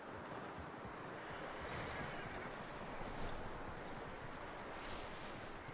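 Horse hooves clip-clop in a steady rhythmic patter from a video game, with a soft wind-like background hiss underneath.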